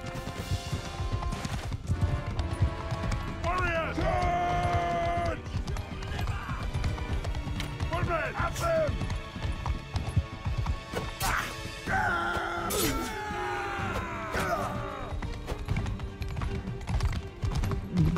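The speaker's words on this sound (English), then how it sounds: "Got a nice horse there, Sigurd." Horse hooves gallop in the medieval combat video game Mount & Blade, a steady clip-clop under clashing battle noise, game sounds and someone talking.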